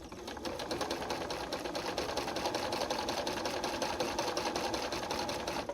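A sewing machine stitches a flange border on a picture-frame quilt in a fast, even, continuous mechanical chatter, close and steady throughout with no speech.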